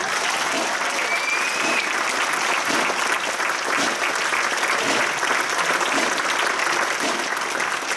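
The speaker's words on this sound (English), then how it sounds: "I think that deserves another round of applause." Sustained applause from a concert audience at a flute band's 50th anniversary concert, dense steady clapping that holds evenly loud for the whole stretch with no voices over it.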